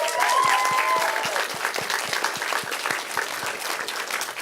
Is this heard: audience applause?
yes